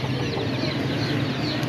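A Plymouth Rock hen clucks at a busy Lahore bird market, soft repeated clucks rising from a dense, steady wash of surrounding poultry and crowd noise.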